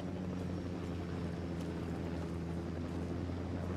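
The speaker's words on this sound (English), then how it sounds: "Helicopter's going for someone else now, by the way." A helicopter flies in the video game Ghost Recon Wildlands, its rotor thrum and engine drone holding steady and fairly loud throughout without speech.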